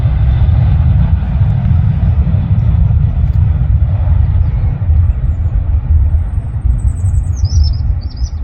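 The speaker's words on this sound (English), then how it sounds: "big Aer Lingus A330s departing Manchester Airport" An Aer Lingus Airbus A330 jet departs Manchester Airport with a loud, steady, broadband engine roar that holds throughout, while birds chirp faintly in the background.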